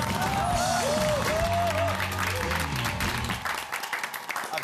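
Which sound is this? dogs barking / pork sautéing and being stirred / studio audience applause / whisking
studio audience applause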